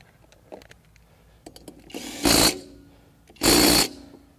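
Power tool tightening a 15 mm blade bolt on an EGO Select Cut XP 21-inch mower: a few light clicks and taps, then two loud, close, half-second bursts of whirring impact driving.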